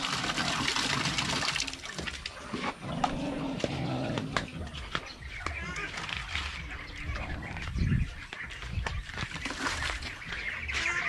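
Ducks drinking water from a drinker, with wet splashing and dabbling sounds over steady noisy background, a soft burst of low thumping near the end.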